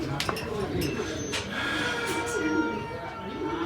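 Racing pigeons at a loft coo in soft, low, rolling calls amid a busy background, with a person talking over them.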